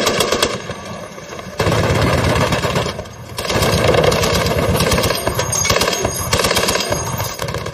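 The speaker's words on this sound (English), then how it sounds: "another fire support group led by Corporal Si Thorne lays down fire onto the Taliban" Sustained machine gun fire from a fire support group engaging Taliban positions in Afghanistan, loud rapid bursts with short pauses, close and dense, mixed with a low engine-like rumble.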